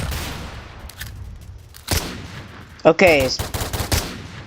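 Luger pistol shots fired in a Roblox game, heard as a couple of sharp cracks near the end with a brief spoken word in between.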